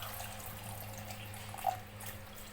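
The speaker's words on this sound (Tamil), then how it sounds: "இப்போ நம்ம தண்ணி இந்த பீட்ரூட் நல்லா முழுகிற அளவுக்கு நம்ம தண்ணி ஊற்ற வேண்டியதான்" Water poured into a mixer jar over chopped beetroot for halwa, a steady close trickle and splash running throughout with one brief brighter spike partway through.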